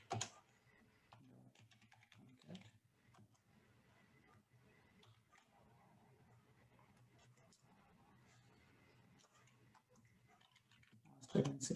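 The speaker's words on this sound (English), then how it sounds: "here I'm going to type the syntax" Soft, quick keystrokes from a computer keyboard as code is typed, faint and close, running in short irregular bursts with a louder clatter at the very end.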